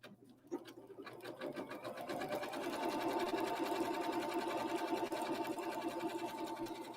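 A sewing machine running a satin stitch hums and chatters in a fast, steady mechanical rhythm, starting up and carrying on continuously at close range.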